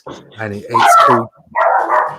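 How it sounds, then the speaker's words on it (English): A dog barks in a few short bursts close by, overlapping a man's speech in an indoor setting. "Sorry about the dog."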